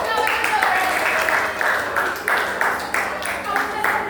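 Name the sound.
class clapping hands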